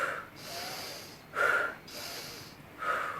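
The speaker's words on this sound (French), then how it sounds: "nous allons prendre plusieurs inspirations toniques" Deep, energizing breaths during a guided relaxation session, heard as three slow, airy inhale-exhale cycles with a sharper rush of air at each intake, close and fairly soft, with no talk.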